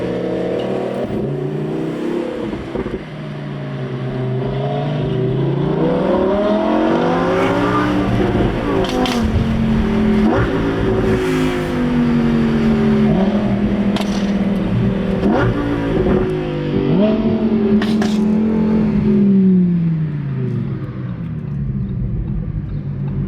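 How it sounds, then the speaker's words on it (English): A Porsche GT3 RS engine revs hard nearby, the loud rising and falling engine note swelling repeatedly and holding a sustained howl as the car pulls away, with no talk over it. "It's that Porsche GT3 RS."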